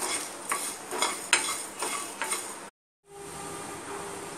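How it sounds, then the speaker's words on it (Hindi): Whole coriander seeds, cumin and dried red chilies dry-roasting in a pan for a spice mix, with a spoon stirring and scraping in several quick strokes, a brief pause, then a steady soft rustle. "इसको हम भून लेंगे और भून के हम इसको पीसेंगे।"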